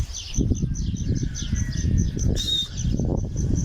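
Repeated high chirping bird calls ring out over a rumbling, busy background, with a brighter call standing out midway.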